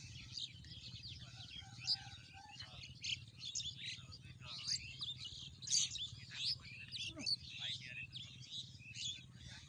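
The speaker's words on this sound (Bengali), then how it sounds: "পাখিরা চারদিকে হই হুল্লা করছে" Birds chirping and calling in a village rice field on a winter morning, scattered bright tweets from several directions at moderate distance over a low, steady rumble in the background.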